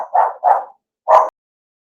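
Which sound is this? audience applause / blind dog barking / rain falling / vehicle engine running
blind dog barking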